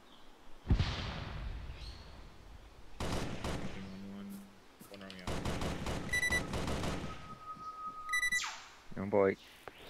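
Gunfire in the military shooter Arma 3: several sharp bursts and single shots at varying distance, mixed with radio chatter, electronic beeps and game tones, with voices talking over parts of it.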